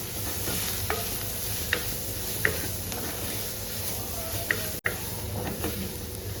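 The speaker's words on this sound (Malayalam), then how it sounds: "നമുക്കിതൊന്ന് ഇളക്കി കൊടുക്കാം കേട്ടോ" Spice powders, including cumin powder, being stirred as they fry in a pan for a prawn dish: a steady low sizzle runs throughout, with sporadic scraping clicks of the spoon against the pan, close and moderately loud.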